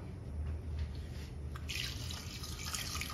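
Water poured into a pressure cooker holding soaked black chickpeas and onion, a soft trickling and dripping that swells into a brighter splashing pour partway through, close and without talk.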